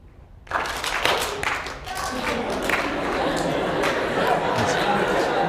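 Students in a lecture hall break into scattered clapping that swells into sustained applause, dense and close, with murmured chatter mixed in.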